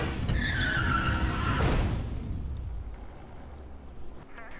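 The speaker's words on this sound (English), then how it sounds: "Sound design on that crash was insane." Car tires skid with a long, loud screech that ends in a sudden crash hit, followed by fading noise and debris, a cinematic sound effect within a song.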